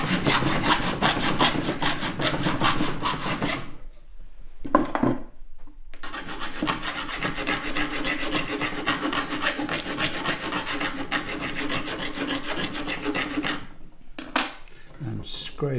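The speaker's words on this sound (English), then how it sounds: "And scrape it and burnish it." A hand scraper and burnisher work an etching plate with repeated close, raspy metal-on-metal scraping strokes, continuous and fairly loud, broken by two short pauses, with no talking.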